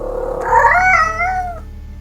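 A single drawn-out cat meow, rising and then falling in pitch, close and clear over a quiet low hum, lasting about a second before fading.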